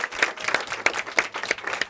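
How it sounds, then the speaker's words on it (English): Applause from an audience at a public school event honoring the school principal, a brisk patter of many hands clapping at close range with distinct sharp claps standing out, steady and lively throughout. "Let's give a round of applause to Principal Dockery"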